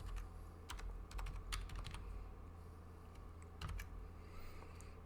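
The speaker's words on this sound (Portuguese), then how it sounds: "nós vamos digitar aqui" Faint keystrokes on a computer keyboard come in quick irregular bursts and scattered single taps against a quiet room hum, with no voices.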